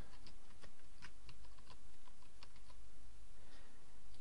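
A password is tapped out on a computer keyboard, a quick irregular run of light key clicks over a steady background hum, no voices.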